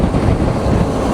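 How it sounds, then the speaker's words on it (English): Strong wind near Eastbourne buffets the microphone in a loud, continuous roar with no other sounds. "It is quite windy."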